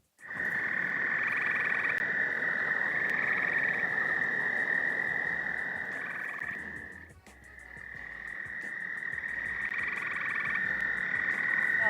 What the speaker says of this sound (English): Do you love to listen to the night songs of the toads and the frogs during the spring and summer?